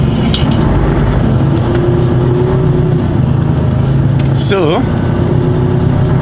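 A car pulls out of a petrol station, its engine running steadily close by under continuous talk, with a brief sweeping whine midway.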